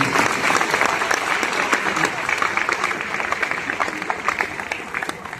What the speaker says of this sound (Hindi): अगर सुनना चाहते हैं तो एक बार मुझे तालियों से बताएंगे।